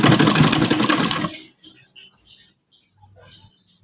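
A sewing machine stitching a half-inch folded hem, running in a fast, steady loud whir for about a second and a half, then stopping, leaving faint quiet rustles.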